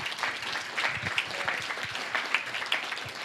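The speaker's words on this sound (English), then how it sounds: "let's give them a round of applause as well" A small group at a veterans' luncheon in Ashland claps for the event organizers, with scattered, moderately faint hand claps and distinct individual strikes over a murmur of room noise.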